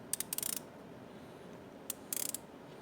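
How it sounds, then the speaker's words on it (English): Turning the stainless steel bezel of a Casio MDV106 Duro watch gives two short bursts of crisp, quiet clicks separated by a pause, close up with faint background hiss. "This notching on the sides makes it really easy, grippy, nice, solid clicks, 120 click of them, nice solid action."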